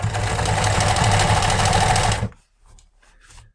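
A sewing machine stitches a seam in waxed fabric with a loud, fast, steady mechanical whir for about two seconds, then stops abruptly, leaving faint scattered handling sounds.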